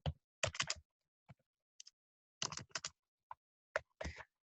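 Clustered bursts of typing on a computer keyboard, quick key clicks in short runs separated by pauses, close and fairly quiet with no talking.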